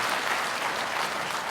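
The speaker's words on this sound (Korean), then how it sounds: "제가 사랑하는 동생 부승찬 의원을 위해서 박수 좀 부탁드리겠습니다" An indoor audience at a lawmakers' report meeting claps for Bu Seung-chan in a short, steady burst of applause that holds at an even level from start to finish.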